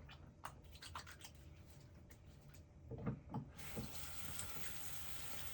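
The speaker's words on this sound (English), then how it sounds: "There's dirt on my hands. I'm gonna wash them." A running tap splashes water as dirty hands are washed, with soft rubbing and wet sounds at first, then a steady, close hiss of flowing water.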